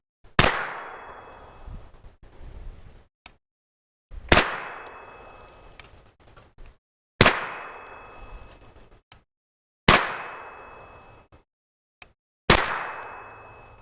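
Five evenly spaced shots from a Canadian Hi-Point long-barrel carbine at a target ten yards downrange, each a sharp loud crack with a ringing outdoor tail, separated by quiet pauses and faint handling noise.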